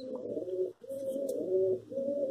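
Domestic pigeons coo steadily near hand-fed chicks and a hen sitting on an egg, making a continuous close, throaty rolling that pauses only briefly, with no voices.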